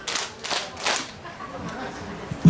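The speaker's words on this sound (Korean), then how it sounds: "박수 세 번 시작." An audience at an outdoor nanta percussion show at Ilsan beach claps three times in unison on cue, three quick, evenly spaced sharp bursts followed by a low crowd murmur.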